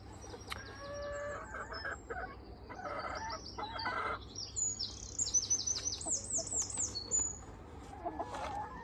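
Backyard chickens cluck, squawk and cackle intermittently at a distance, in a quiet outdoor setting with a faint low background hum.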